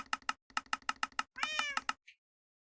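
A house cat gives one drawn-out, plaintive meow, set among a run of sharp clicking taps like rapid keyboard strokes, with no talk.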